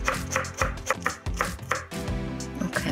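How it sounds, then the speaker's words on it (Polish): A knife chops spinach on a board in quick, regular strikes, close and clear over a steady tonal background. "I teraz pokroję sobie szpinak."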